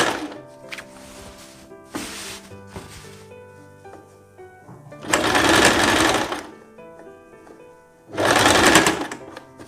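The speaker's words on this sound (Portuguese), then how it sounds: "E a gente vem costurando aqui por cima, exatamente em cima daquela costurinha." Domestic sewing machine stitching over an existing seam on a ruffled dress, heard as two loud bursts of fast mechanical whirring, each about a second long, separated by quieter handling and soft clunks.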